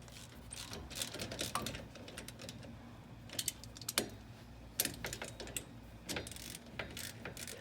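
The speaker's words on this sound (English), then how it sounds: "As you're tightening these bolts, make sure you do it evenly" A ratchet tightens bolts on the front drive line of a Jeep JK, giving bursts of quick clicking pawl strokes, close and moderately quiet, with short pauses between runs of tightening.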